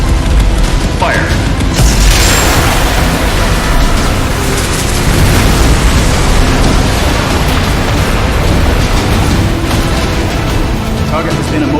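A Gauss cannon from the Unearthing Mars 2 game fires and explodes in a huge, sustained roar of dense rumbling noise that stays loud and even for about twelve seconds.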